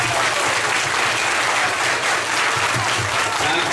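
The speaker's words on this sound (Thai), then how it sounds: "ปรบมือแรงๆครับ" Schoolchildren at a village school applaud a visiting guest, a dense, sustained burst of clapping from many hands, loud and steady throughout.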